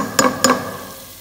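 Ginger and garlic lightly frying in a pan for fish soup, with two quick spatula scrapes against the pan over a soft, steady sizzle.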